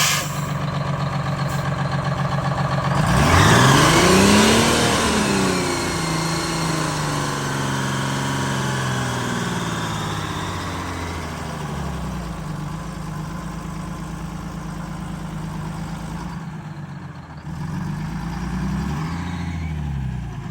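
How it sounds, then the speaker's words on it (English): A GM 4104 bus with a Detroit Diesel 6-71 engine labors up a hill in first gear at full throttle. The engine drones loudly and its pitch sweeps up and down, then dips briefly before rising again. "every hill climb attempt, it was in first gear, pedal to the floor, full throttle, just wouldn't do it"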